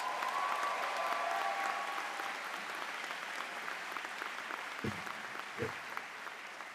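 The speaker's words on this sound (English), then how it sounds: "Give a big round of applause for the moms." A graduation commencement audience applauding the mothers, a broad wash of clapping from a large crowd that fades gradually over several seconds, with a couple of dull knocks near the end.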